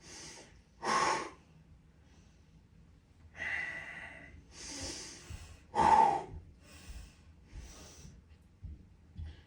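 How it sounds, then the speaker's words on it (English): Controlled, deliberate breathing during upper body workout reps: sharp nasal inhales and forceful exhales in distinct bursts, close and fairly loud, spaced a second or two apart with quiet gaps between. "as I'm performing my reps, I'm really being super intentional with my breath."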